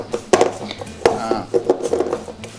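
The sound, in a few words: mixing sautéed onion and pepper for tempeh crab cakes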